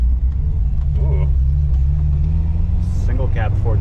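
Single cab Ford truck engine rumbling with a deep, steady low drone close by throughout, while people talk over it.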